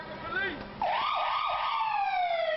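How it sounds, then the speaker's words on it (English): A police car siren wails loud and close outside a home, its pitch sweeping up and down repeatedly, starting after a brief quieter moment. "So officers woke them up using sirens."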